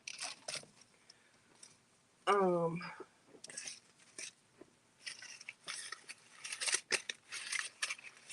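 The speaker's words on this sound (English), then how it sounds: "So I'm probably gonna have to zip tie this down like this." A plastic zip tie is pulled tight in one quick ratcheting zip partway through. Before and after it come quiet rustles, handling clicks and soft speech.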